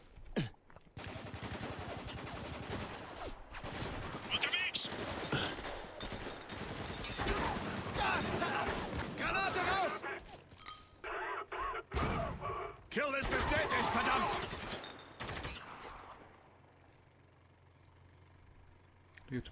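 Heavy gunfire from Spec Ops: The Line, loud bursts of machine-gun fire and explosions crowding most of the clip, fading to a quiet rumble near the end, with someone talking intermittently underneath.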